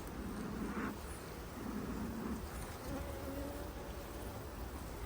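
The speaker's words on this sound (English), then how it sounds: "There's too many bees." Honey bees buzz around an opened, smoked hive with queen cells, a faint continuous hum filling the background while a voice speaks briefly.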